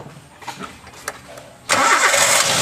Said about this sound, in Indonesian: Coba hidupkan mesin.